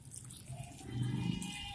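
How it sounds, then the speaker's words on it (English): Water trickles and splashes briefly onto a slab of cocopeat, a short close pour that swells midway, with no talk. "I need to again add some water to it"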